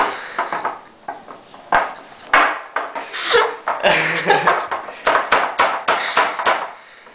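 A whisk knocks repeatedly against a mixing bowl to shake off flour while making a mini cheesecake, giving sharp, close, uneven clinks and taps in quick bursts, with faint background voices.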